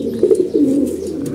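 Domestic pigeons in their pots coo close and clear, with two or three short throaty rolls in quick succession and no talking.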